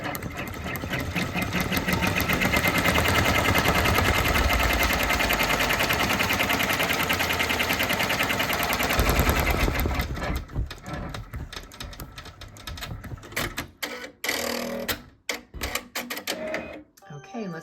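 An embroidery machine stitching the outline of a design in a 4x4 hoop runs at a steady, rapid mechanical chatter for about ten seconds, then slows into sparse, irregular stitches and pauses, with a person speaking over it.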